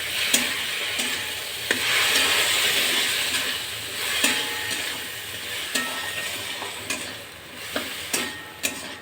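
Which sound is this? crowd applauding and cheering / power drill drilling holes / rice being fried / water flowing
rice being fried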